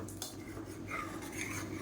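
Metal utensil scraping and stirring black urad dal porridge inside a pressure cooker, a steady clinking and rubbing texture with no voices.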